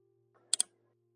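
Two quick, crisp keystroke clicks on a computer keyboard while a search term is typed on a Windows PC, close and clean over a quiet background hum.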